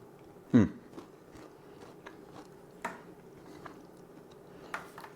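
A crunchy Anzac cookie bitten once with a sharp, close crack, followed by a few quieter crunches of chewing spaced through otherwise quiet moments.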